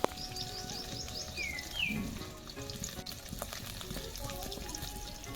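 Potatoes and vegetable stalks fry in a home kitchen pan with a steady crackling sizzle, joined by brief bird chirps in the background and no talk.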